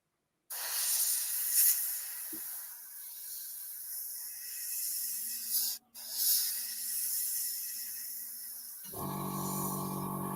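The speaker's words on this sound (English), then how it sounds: "So that's now actually spraying a lot nicer." An airbrush sprays water-based model paint in a steady, close hiss lasting several seconds, with a brief break midway, then continuing alongside a low hum near the end.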